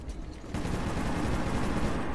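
Continuous automatic gunfire in Metro 2033 as enemies on a staircase are shot, a dense rapid burst beginning abruptly after a quieter moment and holding loud to the end.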